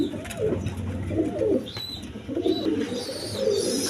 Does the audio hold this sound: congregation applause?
no